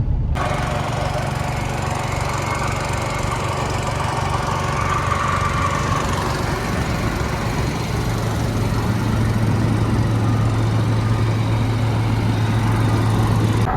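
A farm tractor with a fertilizer rig runs steadily nearby, a rough, knocking engine drone that holds throughout with a low hum settling in toward the end, no voices over it.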